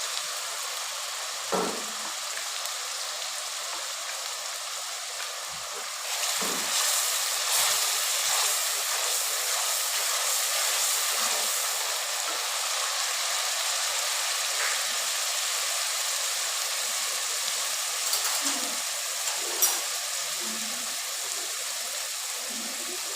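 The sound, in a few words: chicken and garlic sizzling in a karahi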